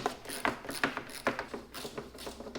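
Rapid ratchet clicks from a wrench backing out bolts on the rear cover of a Troy-Bilt Squall 2100 snowblower, in close, quick bursts of ratcheting with short pauses between them.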